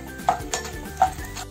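Roasted gram dal (phutana dal) being dry roasted in a pan for poha chivda, with two sharp scraping clinks of a spatula against the pan and soft rustling stirs in between, close and fairly quiet.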